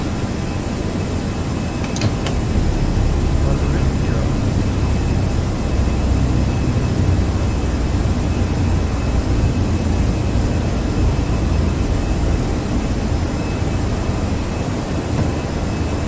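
A flight-simulator aircraft rolling on runway 17 for takeoff: a loud, steady engine roar with broad rumble that holds for the whole stretch, with a brief faint click near the start.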